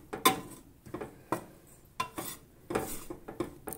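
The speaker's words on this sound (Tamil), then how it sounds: "ஸோ எல்லா இடத்துக்கும் ஹீட்டை வந்து காமனாக படுற மாதிரி நம்ம இந்த மாதிரி கிளறி விட்டுட்டே இருக்கணும்." Rice flour is dry roasted in a pan for idiyappam, with a spoon scraping and clinking against the pan in repeated irregular strokes, close and clear, with no talking.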